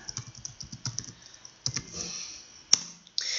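Rapid keystrokes on a computer keyboard while typing into an Excel spreadsheet, a quick run of close, light clicks followed by a few sharper isolated taps and a brief pause.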